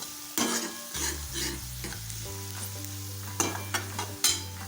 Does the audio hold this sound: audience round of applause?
no